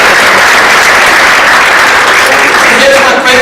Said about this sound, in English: Please put a round of applause together for this.